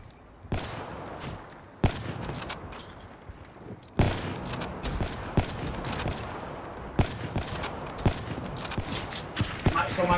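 Video game gunfire: repeated sharp shots and short bursts crack through a dense, busy game soundscape, with louder impacts scattered across the clip and voices faintly underneath.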